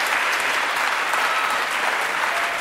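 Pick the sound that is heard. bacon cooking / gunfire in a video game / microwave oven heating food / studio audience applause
studio audience applause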